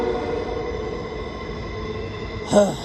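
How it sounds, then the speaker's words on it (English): A train rumbles steadily nearby with a low, constant drone, then a brief metallic wheel squeal rises near the end. "I have to wait a second for the damn train."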